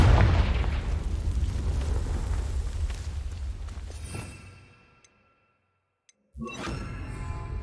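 Confringo blasting spell exploding in Hogwarts Legacy, a heavy booming blast that rumbles loud and close for several seconds, fades into near silence, then a second sharp burst erupts.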